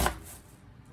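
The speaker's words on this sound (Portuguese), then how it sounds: "vou cortar a cebola aqui" A kitchen knife strikes down through an onion on a cutting board, a single close, sharp chop followed by a faint fading tail.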